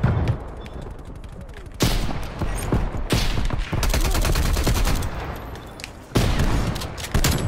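Rapid automatic gunfire bursts with sharp single shots in the video game Black Ops Cold War, loud and close, broken by short gaps and a few mechanical clicks.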